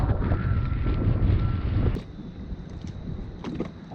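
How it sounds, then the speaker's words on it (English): Strong wind buffets the microphone aboard a Hallberg-Rassy 54 sailing yacht off Montserrat, loud gusty roaring for two seconds before easing into a softer, steadier blow. "The wind is too strong"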